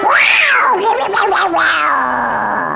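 A human voice imitates a cat, drawing out a long wavering meow with rising and falling pitch, loud and close.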